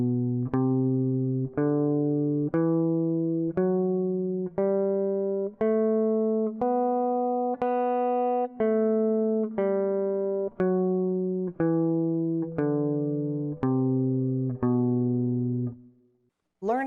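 Guitar playing a B Phrygian scale in second position, single notes plucked one at a time at a steady even pace, rising then descending, each ringing clearly and alone.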